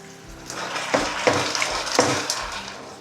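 Mussels frying in a pan with lemon and hot paprika, a steady close sizzle punctuated by several sharp clattering stirs or shell knocks.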